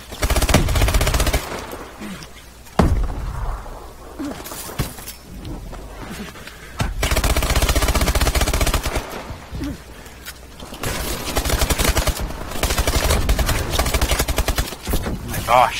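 Gunfire in the first-person shooter Call of Duty: Advanced Warfare, loud bursts of automatic fire and sharp shots in uneven clusters with brief lulls, with players talking over the action.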